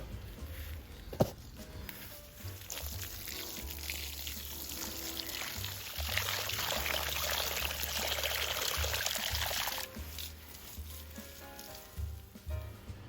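Water poured onto soil in an air-pot gardening container, a continuous splashing, trickling rush that lasts around ten seconds before tapering off into a few drips and small knocks.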